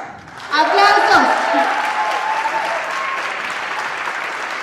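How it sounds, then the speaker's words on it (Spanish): Studio audience applause at a Spanish-language television telenovela cast presentation, bursting in loudly after a brief moment and holding steady as dense, sustained clapping, with a voice shouting over the start. "¡Aplausos!"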